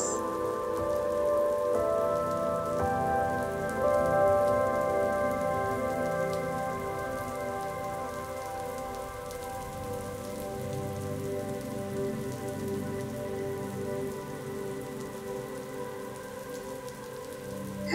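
Steady rain falls with a constant, even hiss throughout, mixed with soft sustained tones underneath and no voices.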